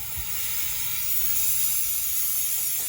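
Cleaner sprayed onto a Scion tC front wheel hub during bearing work, a continuous close hissing spray lasting a few seconds, steady and alone.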